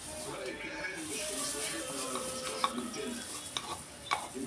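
Cooking oil sizzles and hisses steadily in a pan, with faint stirring scrapes and small clinks layered over the continuous frying noise.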